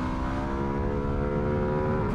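A Ducati twin-cylinder motorcycle engine revs steadily and loudly, its deep throbbing note rising slightly in pitch, with no voices.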